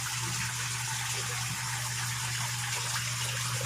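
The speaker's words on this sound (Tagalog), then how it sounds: "Tapos, ipasok ko dito yung tubig at saka dun, papunta naman dito sa second chamber natin" Water pouring and gushing into a chamber of a DIY pond filter built from an old fridge, a steady, even rush with a low constant hum underneath, close and uninterrupted.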